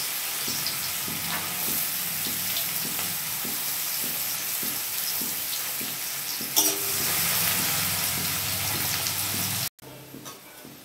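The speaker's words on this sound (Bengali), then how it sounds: "কড়াইয়ের তেলটা গরম হয়ে গেছে, আমি এবার সবজিগুলো ভেজে নেব। প্রথমেই দেব গাজরটা।" Carrots frying in hot oil in a wok for fried rice, a steady close sizzle with light stirring scrapes throughout, a brief louder burst midway and a short cut near the end.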